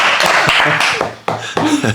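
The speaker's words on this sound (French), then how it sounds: "Allez, on peut applaudir un peu." A small group of friends applauds briefly after a climbing competition win, a short burst of close hand claps mixed with voices, fading and then picking up again in scattered bursts.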